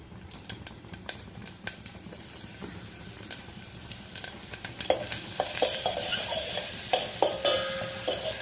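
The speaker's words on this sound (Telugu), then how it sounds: "ఇంకైతే రసం కోసం అయితే పోపు పెట్టేసుకుంటున్నాను." Spices for a rasam tempering fry in hot oil in a home kitchen: a growing sizzle with crackling pops and sharp spoon-stirring clicks, close and getting louder toward the end.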